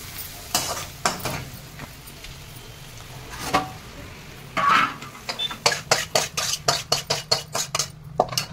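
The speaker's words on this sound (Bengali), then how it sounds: "গরম গরম তেলে কাঁঠালের বিচিগুলো ভালো করে মেখে নিতে হবে" Jackfruit seeds tossed and mixed in hot oil in a pan, a quick run of close scraping, clinking strokes over a steady frying sizzle, speeding into rhythmic stirring toward the end.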